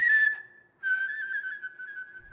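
Someone whistles a short tune up close: a bright held note, a brief pause, then a longer sustained whistled phrase alone.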